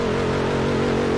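A Mustang's engine revs in a video game, a steady droning tone with wavering pitch held for about a second, loud and close with no speech.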